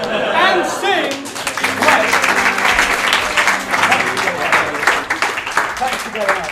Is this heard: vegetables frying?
no